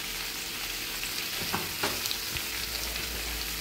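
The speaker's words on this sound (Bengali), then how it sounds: "এইটা ভালো করে আমি সব সবজির সঙ্গে কষিয়ে নেব।" Mixed vegetables sautéing in a pan with turmeric, salt and sugar, a steady close sizzle and crackle with a few soft stirring scrapes, no talking.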